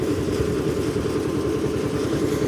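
A tractor-driven generator powers a wood cutting machine at a lumber market, giving a steady, loud, close mechanical drone with low engine rumble and no break.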